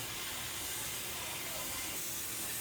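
Tamarind water heating in a pot on a stove, giving a steady, even steam-like hiss with a low rumbling bed and no distinct events.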